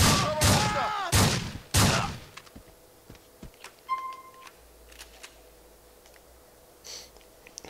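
Semi-automatic shotgun gunfire in Grand Theft Auto IV, three loud booming blasts in quick succession near the start, followed by quieter scattered clicks and shots in the game.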